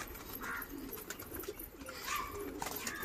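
Soft pigeon cooing in bursts over a low background hum, with some faint rustling nearby.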